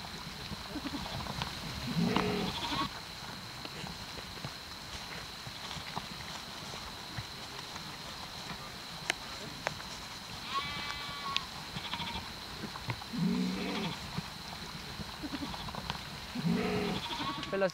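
A flock of black sheep in high-mountain pens bleats in scattered bursts, a few calls rising over a quiet outdoor backdrop with a steady high-pitched hum and occasional faint sounds around them.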